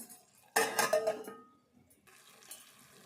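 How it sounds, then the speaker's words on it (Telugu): A lid clatters onto a metal cooking pot of simmering tomato and drumstick curry: one sharp, close metallic clank with a short ringing rattle, then a low, quiet hiss from the pot. "కొద్దిసేపు మూత పెట్టుకుందాము."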